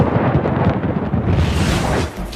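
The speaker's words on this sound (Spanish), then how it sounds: "Parece que un rayo golpeó el tablero de metal." A lightning strike during a violent storm hitting a metal sign brings a loud, sustained crash of thunder that rolls on as one dense, roaring rumble before easing slightly at the end.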